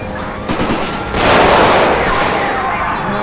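Gunfire from a police shootout in a realistic bank-robbery driving game, a loud burst of sustained shots blending into a dense roar, with speech from a player in the background.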